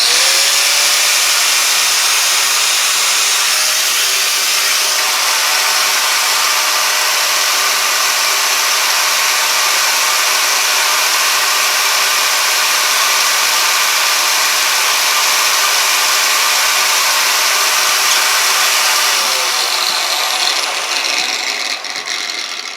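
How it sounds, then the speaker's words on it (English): A grinder runs steadily and loudly for the whole stretch, drawing power from a generator during electrical load testing, a constant dense whine with no pauses before it tapers slightly at the end. "I'll turn the grinder on"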